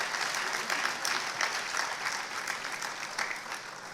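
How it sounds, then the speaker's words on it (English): A crowd at an economic summit applauds a newly introduced panelist, a dense, continuous wash of clapping from many hands that stays fairly even and full throughout. "A round of applause, ladies and gentlemen."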